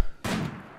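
A burst of video game gunfire in a RimWorld battle, one sharp crack followed by a louder sustained volley that rings on steadily.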